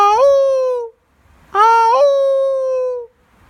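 A person imitating a howl with their voice, producing two long wavering howls that rise sharply, then sustain and fade, separated by a short pause, loud and close.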